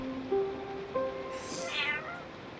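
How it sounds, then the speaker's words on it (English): A cat meows a few times, close and clear, the last meow longer and higher, over a soft background of low held music. "So you are just an ordinary kitty."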